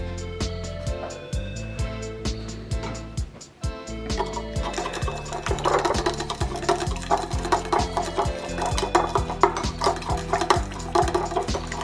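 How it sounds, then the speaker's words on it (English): A spoon swirls through a lamb seasoning mix of fresh cracked black pepper and fresh ground salt in a bowl, giving steady close clinks and scraping strokes for several seconds. "quick stir."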